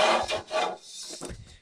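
Metal scraping and rubbing as a 1-inch by 1/8-inch angle iron is clamped into the vise of a Klutch 2-in-1 bandsaw, several close rasping strokes in quick succession.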